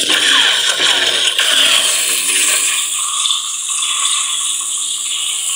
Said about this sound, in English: This is the Ronin and Bandit sound fonts from Kyberphonic. Lots of bolts just tapping.